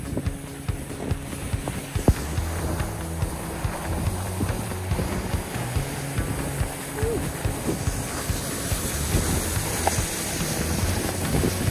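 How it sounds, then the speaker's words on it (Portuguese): Strong wind roars across a snowy mountaintop, buffeting the microphone in heavy, uneven gusts with low thumps throughout. "Ventania muito louca."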